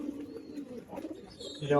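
Soft pigeon cooing murmurs in the background while a person talks nearby, with a brief louder burst at the end.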